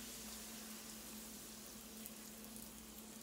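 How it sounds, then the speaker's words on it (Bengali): A Bengal hing kachori fries in oil with a continuous, faint, even bubbling sizzle over a low steady hum, with no voices. "এবার আস্তে আস্তে করে আমি এগুলো ভেজে নেব।"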